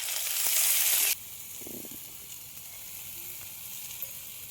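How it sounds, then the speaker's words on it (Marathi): Ivy gourd (tondli) sautéing in a pan with coarsely chopped garlic gives a loud, dense sizzle for about a second, then drops to a faint, steady background hiss with a few soft stirring bumps. "आपण आता तोंडे परतून घेऊ"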